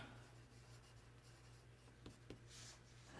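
A pencil drawing on paper, demonstrating how different pencil grades make lighter or darker lines: faint, soft scratching strokes close by in a quiet room, with a couple of brief sharper marks near the end and no talk.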